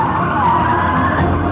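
A handcuffed, drunk driver's car skids into a spin on a highway after speeding over 100 mph, a loud, continuous tire squeal and engine roar lasting throughout, with no voices.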